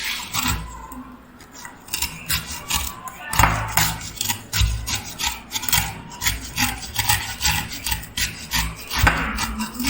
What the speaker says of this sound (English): When you will grate the beetroot,